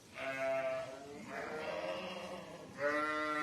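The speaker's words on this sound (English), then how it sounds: "Erdwicks are my favourite sheep" Herdwick sheep bleat loudly and close on a farm during lambing, with a long wavering call, a second rougher bleat, and a third starting near the end.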